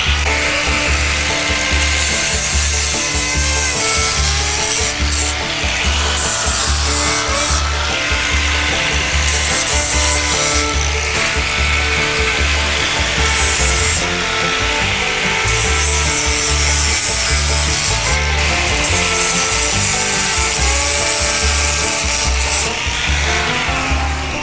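A tool grinds down welds on the firewall of a 1962 Chevrolet C10 pickup truck, a loud, close, continuous abrasive rasp with a steady pulsing rhythm. It runs without pause and no one speaks.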